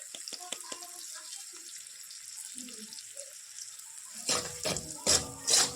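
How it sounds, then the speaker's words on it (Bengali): Ground spices with cumin powder fry in a pan, a faint hiss at first with light clinks, then louder bursts of sizzling toward the end as the mixture is stirred. "মশলাগুলোকে আবার একটু ভেজে মশলাগুলো ভাজা হয়ে গেছে"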